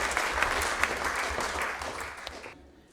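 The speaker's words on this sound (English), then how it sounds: "give one more round of applause for our Service to Sport Award winners" An awards-night audience at a community sports awards claps for Service to Sport honorees, a dense, close wash of applause that holds steady, then thins and cuts off near the end.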